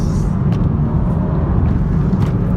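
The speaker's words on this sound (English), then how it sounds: "the 335i sounds rather good in sport mode" A loud, deep BMW 335i engine rumble in sport mode from inside the car, steady and throaty with continuous low roar and road noise, no talking.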